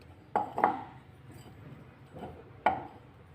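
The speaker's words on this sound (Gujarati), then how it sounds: "આ રીતે આપણે ગ્લાસને તેલથી ગ્રીસ કરી લઈશું" Glasses are handled while being greased with oil for steaming patra, giving three or four sharp, close glass clinks separated by quiet pauses.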